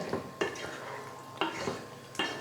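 A spoon stirs chicken curry in a pot after water is added, with a few quiet, separate scraping and clinking strokes spaced unevenly across the short stretch.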